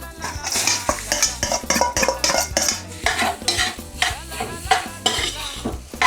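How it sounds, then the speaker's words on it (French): Rice tossed and stirred into a pan with cooked egg, a spatula scraping and clattering steadily against the metal while a faint sizzle runs underneath, close and busy with no voices. "maintenant, on se met le riz à l'intérieur"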